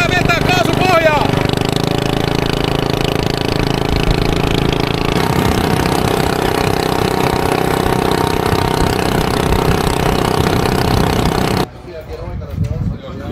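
A rally car engine roars loudly at full throttle, sustained and harsh for most of the run, then cuts abruptly to a quieter rumble near the end, with a voice speaking over it.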